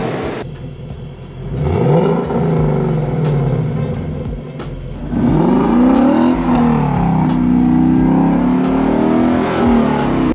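A Ford Mustang GT 5.0 V8 with an SR Performance X-pipe exhaust revs loudly and close by, its deep rumble rising and falling through several throttle blips over a steady idle.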